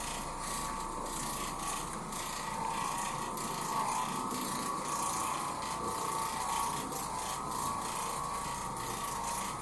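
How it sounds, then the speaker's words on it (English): An Oreck Orbiter floor machine scrubs carpet that has not been cleaned in 18 years, a continuous, fairly loud mechanical whirring and rubbing drone that holds steady throughout, with no speech. "He's just scrubbing the carpet."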